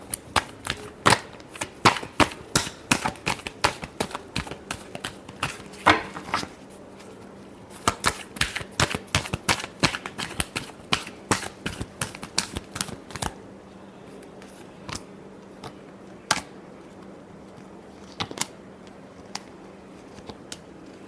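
Tarot cards are shuffled by hand in quick papery riffles and taps, dense and close at first, then thinning to scattered single flicks.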